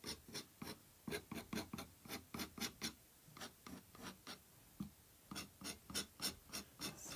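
Repeated short scratching strokes into soft oil pastel, a rhythmic rasping series of quick scrapes with brief pauses, close and fairly quiet with no talking.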